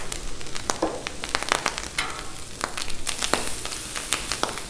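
Ham fries on a Blackstone griddle with dense, crackling sizzle and frequent sharp pops, loud and close, continuing steadily with no talk.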